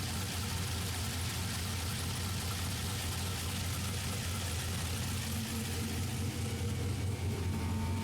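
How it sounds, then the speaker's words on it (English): A car engine idles steadily after a second fuel pump has been installed, a continuous low rumble with broadband noise holding even and close for the whole stretch, no talking over it. "while it's idling"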